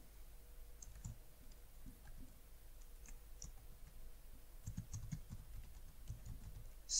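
Faint, irregular clicks of a computer keyboard as someone types an email, soft and close in an otherwise quiet room, with no voices.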